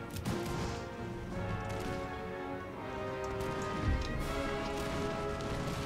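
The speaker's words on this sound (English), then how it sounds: "Oh, it's raining again." Rain falls steadily during an Empire Total War battle, a soft, continuous hiss under a busy mix of distant battle noise and sustained tones, with a few sharper cracks.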